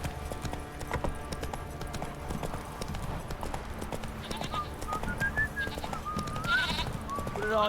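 Sheep bleat and a horse's hooves clip-clop steadily in The Witcher 3 video game, with a faint voice and soft game ambience underneath.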